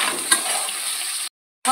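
Fried vegetables for milk sukto are tossed together in a pan, a close, loud scraping sizzle with one sharp knock near the start, then a sudden cut to silence before the sound briefly returns.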